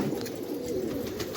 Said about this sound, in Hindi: मैं ये कबूतर लेकर आया हूँ।